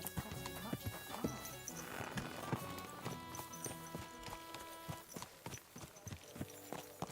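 Horse hooves clip-clop in a steady rhythm with an occasional whinny in the medieval video game Kingdom Come: Deliverance, set against a busy game soundscape.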